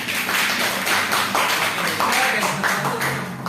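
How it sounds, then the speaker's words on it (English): A classroom claps for a student after a science presentation on baking soda and vinegar, with steady close applause filling the moment and a voice talking over it. "Give applause to Fibri, guys."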